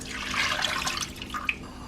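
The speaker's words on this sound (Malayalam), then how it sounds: "കുറച്ച് വെള്ളം കൂടെ ചേർത്തിട്ടുണ്ട്." Water splashes and trickles into a cooking pot of curry with coconut milk, a short, fairly faint pour with a few drips.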